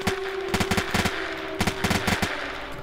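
M4 rifle in a video game fires in rapid automatic bursts, sharp repeated shots in two clusters with a short pause between, over a steady background hum.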